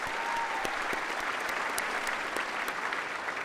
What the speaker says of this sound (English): let's give a big round of applause to our musicians and